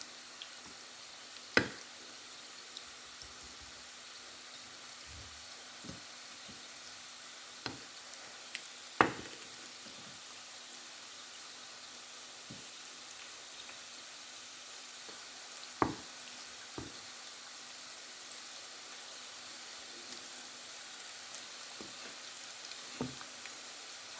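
Food fries in a pot while rice is being cooked, a steady quiet sizzling hiss running throughout with scattered sharp clinks and pops every few seconds and no talking.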